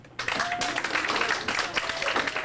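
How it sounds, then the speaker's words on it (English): A classroom audience claps louder, with steady, dense applause that begins suddenly and carries on evenly. Voices rise faintly over it. "applaud louder for Slim Shady."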